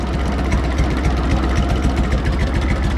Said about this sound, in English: She's a John Deere, she's only a 2-cylinder now.